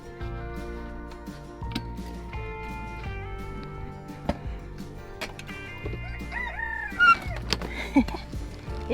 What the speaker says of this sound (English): The morning crow.